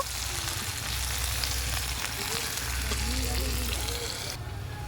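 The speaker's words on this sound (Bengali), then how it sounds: "পেঁয়াজটা খুব সুন্দর করে একটু ভাজা ভাজা করে নেব" Chopped onion with green chillies fries in a pan, giving a steady, moderate sizzle that runs evenly through the whole stretch with no talk over it.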